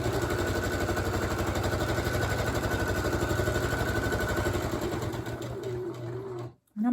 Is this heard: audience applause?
no